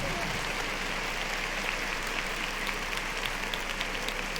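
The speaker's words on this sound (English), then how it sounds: "Clap it up." Audience at a casual talk show taping claps in a continuous, moderately loud wash of applause with a faint crowd murmur beneath.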